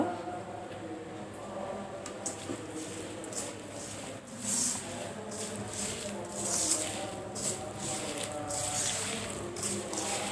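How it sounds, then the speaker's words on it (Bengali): Small fish being mixed with spices and oil by hand, soft wet squishing and patting sounds, moderately close, with a steady low background hum throughout. "এবারে সব কিছু আমি একসঙ্গে মেখে নেব।"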